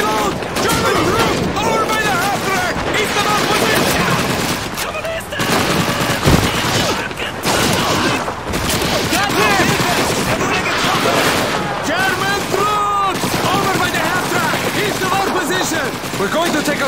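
Constant rifle and machine-gun fire crackles through a Call of Duty urban battle at Stalingrad, loud and close, with dense overlapping bursts and scattered booms. Shouting voices come through under the gunfire.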